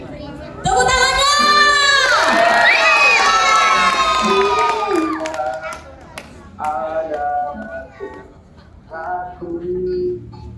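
An audience at a church short film festival screening in Kepanjen cheers and shouts loudly, with children's voices prominent, then the noise fades into scattered bursts of shouting and chatter.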